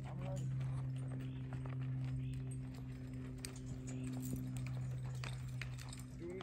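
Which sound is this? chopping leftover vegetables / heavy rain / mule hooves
mule hooves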